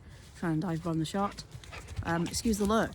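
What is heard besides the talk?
energetic dog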